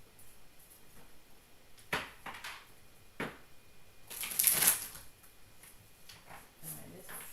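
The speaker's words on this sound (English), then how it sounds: "One more shuffle." A few short papery riffles and one longer, louder ruffle of tarot cards being shuffled, close up in a quiet room.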